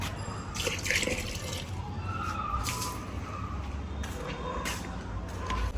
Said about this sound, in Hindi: फिर मैंने सोचा पौधे भी सूख रहे हैं सारे, इनमें भी पानी दे दूं।